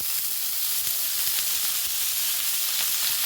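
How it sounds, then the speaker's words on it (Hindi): Cumin and chopped fenugreek leaves roast in a pan for methi paratha, giving a continuous, even hissing sizzle with a few soft stirring scrapes close by and no speech. "मेथी को हम 2 मिनट के लिए भून लेंगे।"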